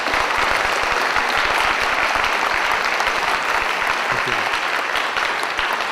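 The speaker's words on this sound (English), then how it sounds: "Let's give him another round of applause." Sustained applause from a lecture audience at an emeritus lecture, steady dense clapping filling the whole stretch at an even, loud level with no voices over it.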